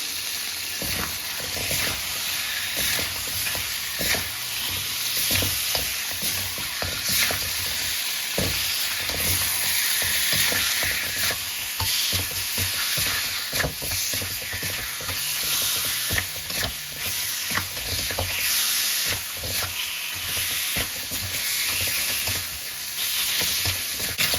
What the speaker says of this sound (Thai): แล้วก็มิรินนะคะ แล้วเราก็ผัดให้เขาเข้ากันเนาะ